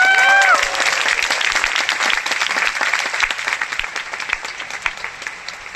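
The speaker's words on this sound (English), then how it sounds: "Everybody give a round of applause to my mom and dad." Large keynote audience at the Taipei Music Center breaks into loud, sustained applause, a thick sheet of clapping with individual claps popping through; a brief whistle-like tone sounds at the very start.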